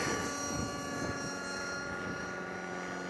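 Electric T-REX 600 RC helicopter flying a loop, heard as a continuous whirring rotor and motor whine with shifting pitch, steady and moderately loud throughout.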